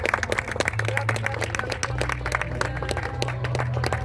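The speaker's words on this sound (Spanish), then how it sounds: "Aplausos para ustedes también." An audience claps at the end of a talk during a town founding festival in Azcuenaga, with sustained scattered applause and a voice speaking over it throughout.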